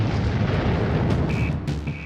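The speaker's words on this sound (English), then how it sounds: "A massive explosion rocked the plant." A massive explosion at an industrial plant, a loud roaring broadband blast with rumbling that stays dense and sustained throughout, heard alone with no voices.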